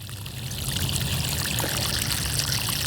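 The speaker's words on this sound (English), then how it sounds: "You want to water it initially. I like to just pour it into my hand" Water poured by hand into a planting hole while planting perennials, a steady trickling splash running continuously and fairly close throughout.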